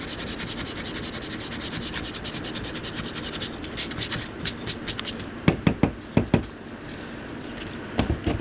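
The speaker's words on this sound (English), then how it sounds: "now I'm sanding these holes until I also get wood with it" Sandpaper rubs steadily against a hand-carved wooden wand, a continuous scratchy rasp that breaks into short, separate strokes toward the end, close up with no talk.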